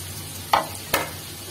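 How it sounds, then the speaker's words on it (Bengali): Fried cauliflower and potatoes being stir-fried with tomato masala in a pan, with two short spatula scrapes standing out over a faint, steady background hum; no talking. "দিয়ে এটা আরো 3 থেকে 4 মিনিট কষিয়ে নেব"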